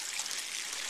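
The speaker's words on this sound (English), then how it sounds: "you'll notice the water is all coming in one location" Rainwater trickles over a leaf guard on a house gutter, a soft, steady, quiet splashing hiss.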